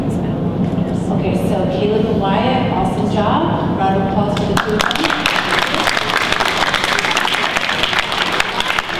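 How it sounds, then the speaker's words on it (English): Audience at a school spelling bee applauds two young contestants, starting as murmuring crowd noise under talk and swelling into a dense, sustained wash of clapping that fills the room for the second half. "Round of applause for the two of them"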